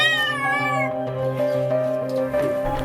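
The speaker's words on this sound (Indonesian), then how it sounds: "Terus ada suara ini kayak meong-meong gitu" A cat trapped in a well meows loudly and insistently, a few drawn-out, wavering cries in quick succession, close and clear with no one talking over them.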